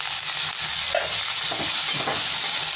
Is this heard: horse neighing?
no